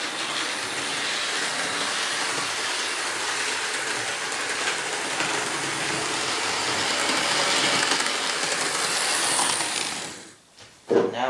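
A used Athearn CP AC4400 model locomotive runs on track as the speed is raised, giving a steady close mechanical whir and rattle of gears that carries on for about ten seconds before cutting off.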